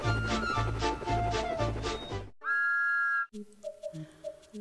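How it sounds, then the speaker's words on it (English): Thomas the Tank Engine gives a clear steam whistle peep, one sustained bright tone, heard right after a stretch of music and followed by a short melodic phrase. "Thomas always whistles "peep, peep, peep" in return."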